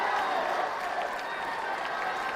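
A tennis crowd cheers and applauds steadily throughout at an exhibition match, a dense, continuous roar at moderate distance with no breaks.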